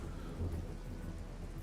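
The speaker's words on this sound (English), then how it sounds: "It's raining, and it's a thunderstorm." Rain and a thunderstorm in the military strategy game Regiments, a steady dense rain wash with a low rolling thunder rumble swelling briefly, alone and fairly quiet.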